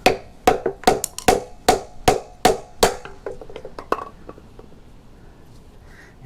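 A BPS full tang knife chops into wood with about eight sharp, evenly spaced blows, loud and close, followed by lighter, scattered taps that fade out.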